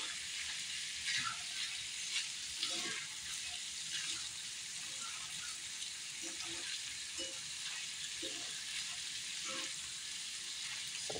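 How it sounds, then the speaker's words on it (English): Potatoes frying in a pan with crumbled corned beef for hash, giving a steady broadband sizzle with small pops and occasional stirring clatter, close and continuous. "Crumble up your corned beef and fry these potatoes with it"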